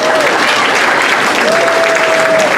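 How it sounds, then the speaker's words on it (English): Loud, dense applause from a comedy club audience at a stand-up show, continuous clapping and crowd noise filling the space with a faint voice briefly present. "So give yourselves a round of applause."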